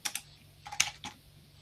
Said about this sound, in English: if I type Google